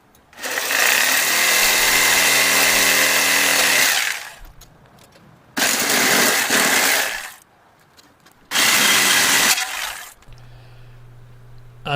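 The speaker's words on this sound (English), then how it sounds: "I'm cutting the U-bolts off because the threads were longer than my impact sockets" Power tool cutting through the U-bolts on an open racecar trailer's suspension: three long, loud grinding bursts separated by short pauses, with no talking.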